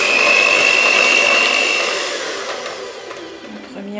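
Electric mixer whirring through cheesecake batter, a steady high motor whine that drops in pitch and loudness partway through as the mixing slows.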